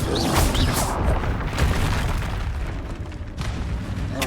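A Confringo fire spell from the Hogwarts Legacy video game goes off as a loud, rumbling explosion that booms at once and then tails into a long, crackling roar.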